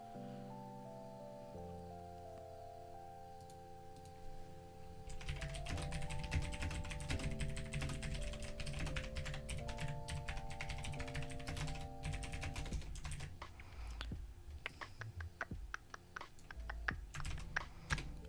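Rapid, irregular clatter of typing on a computer keyboard, the keystrokes close and crisp, beginning after several seconds of steady sustained tones and running to the end without any talk.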